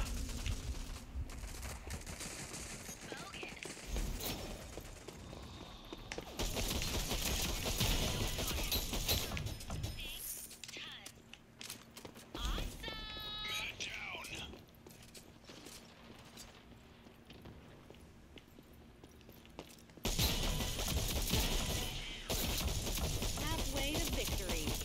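Heavy-recoil gunfire in the video game Rogue Company: loud bursts of rapid repeated shots in several dense blocks, separated by quieter stretches of game noise with a brief rising electronic tone.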